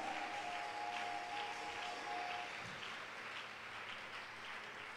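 A church congregation applauding and cheering during a worship service, sustained crowd clapping at a moderate distance that thins slightly after a few seconds.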